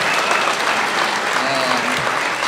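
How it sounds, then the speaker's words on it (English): Loud, close, continuous crowd applause at the Texas Craft Brewers Cup awards ceremony, with clapping that fills the whole moment without a break. "So I would give a big round of applause to all the guys that organized this event."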